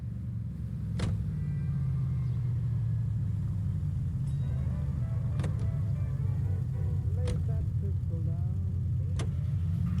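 Car driving in the L.A. Noire video game: a steady low engine rumble runs throughout, with occasional brief clicks and faint speech-like tones over it.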